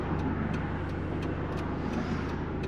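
A 1992 Mazda Miata with 10,000 miles and a 1.6 liter inline-4 idles steadily in a smooth, even hum with a low drone, close and constant throughout.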